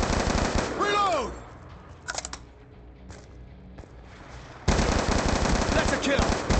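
Rapid automatic MTAR rifle fire from Black Ops 2 in loud sustained bursts, with a pause of lighter clicks between them, then another long burst near the end.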